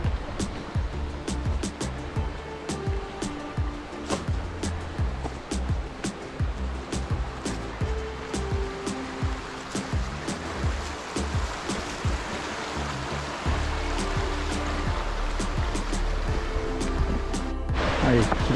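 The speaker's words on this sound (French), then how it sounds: "le chemin transformé en ruisseau avec les pluies de ces derniers jours" A hiking path turned into a running stream after days of rain on a walk near the Durzon spring in the Larzac, giving a steady broadband rush of flowing water with continuous splashing and crackles that grows slightly louder near the end.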